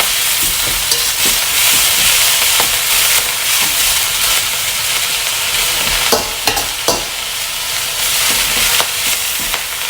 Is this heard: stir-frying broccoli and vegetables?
yes